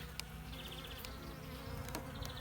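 Honey bees buzz steadily in a continuous hum, with an occasional louder insect passing close by.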